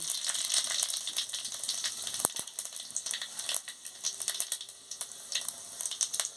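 Bay leaf, dried chilli and five-spice hit hot oil in a pan, giving a steady, quiet crackling sizzle with scattered pops and a couple of sharp clicks, close and alone.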